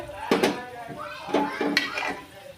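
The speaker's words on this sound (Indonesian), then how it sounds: "tumis bumbu yang kita haluskan tadi sampai harum baunya" Ground spice paste being stir-fried in a pan, heard as a few scraping, clanking strokes of a utensil against metal, with someone speaking over the cooking.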